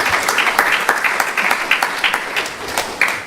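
An audience at a Sunday feast program applauds, a lively mix of many hands clapping with some distinct individual claps standing out, steady for several seconds.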